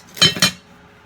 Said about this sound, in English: And shut the lid quickly because we want to keep that heat.